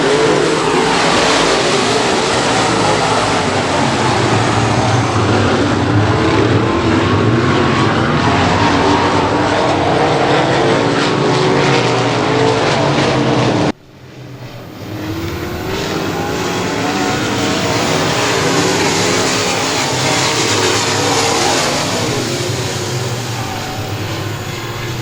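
Pro Mod race cars roar around the Boothill Speedway oval, a loud sustained engine howl that cuts off abruptly midway, then resumes slightly quieter and continues steadily.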